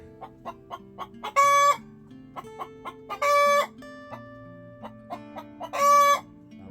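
Rhode Island Red hens cluck in quick repeated bursts after laying an egg, breaking three times into loud drawn-out squawking cackles, close by with no talking.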